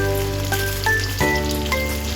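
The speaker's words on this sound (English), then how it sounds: "Add roasted eggplant and stir fry." Roasted eggplant stir-fried in a hot pan over high heat with sauce, a steady close sizzle and crackle with occasional scraping shifts of the spatula, no voices.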